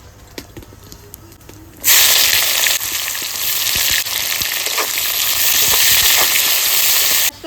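Chopped onion frying in hot oil in a kadai with cumin, dry red chillies and bay leaves, a loud, close, continuous hiss that surges in suddenly after a few faint clicks and holds steady to the end.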